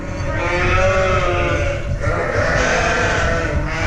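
A flock of ewes bleats loudly and continuously, many overlapping calls close by in a shearing pen before being sheared, with a constant dense farmyard din throughout.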